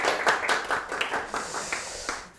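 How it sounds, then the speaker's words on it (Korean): A small audience claps in a loose, uneven burst of separate hand claps that thins out and fades within a couple of seconds, close and moderately loud. "박수 한번 주세요."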